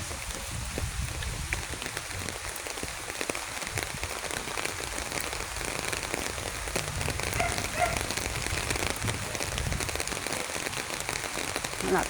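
Rainwater rushes steadily through a drainage canal as the rain eases, a close, continuous broadband wash that holds an even level throughout.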